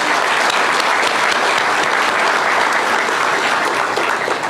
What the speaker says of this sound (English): you deserve a huge round of applause